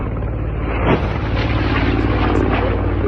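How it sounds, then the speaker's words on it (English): A Russian attack helicopter roars steadily overhead, thick rotor thrum and engine drone filling the whole stretch, loud and close, with a faint voice underneath. "videos about work of Russian attack helicopters"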